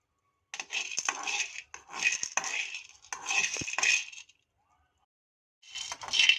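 Tamarind seeds tipped onto a hot pan in three bursts of dry rattling clatter, each lasting about a second, then a pause and a fourth burst.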